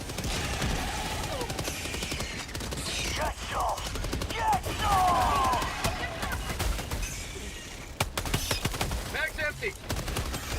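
Helldivers 2 gunfire on the hardest difficulty: rapid automatic bursts and sharp single shots crackle throughout, close and loud, mixed with other battle sounds and a voice talking over them.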